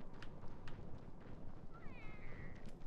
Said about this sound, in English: I hear a kitty